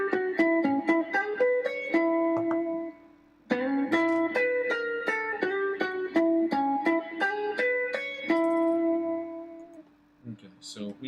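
Guitar working through an Antonio Visadio lick-of-the-week exercise: fast, clean single-note runs, plucked one after another in two flowing phrases separated by a brief pause, ringing out clearly with no talking.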